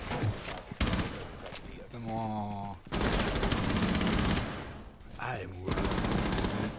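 Rapid gunfire from the video game Rainbow Six Siege in dense, sustained bursts that fill most of the stretch, with a voice briefly speaking in between.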